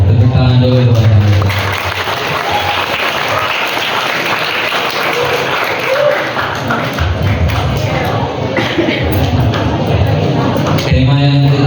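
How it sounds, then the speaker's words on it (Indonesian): An audience at a school Isra Mi'raj opening ceremony at SMA Negeri 9 Depok breaks into steady, crowded applause lasting several seconds, with a voice speaking over it at the start and again as it ends. "Tepuk tangan dulu buat kami"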